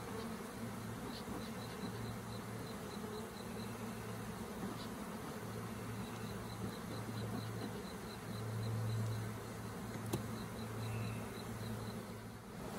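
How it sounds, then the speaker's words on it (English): Bees buzz outside a Layens gable roof forestry hive while a swarm is being transferred, a continuous close drone of many insects with a few individual passes swelling louder. "Now I've got a few bees that are outside. I'm gonna kind of get them to go inside."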